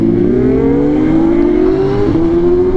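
A BMW S1000RR motorcycle fitted with an aftermarket exhaust roars steadily on a highway, its engine note rising slowly and continuously throughout, loud and close with no pause.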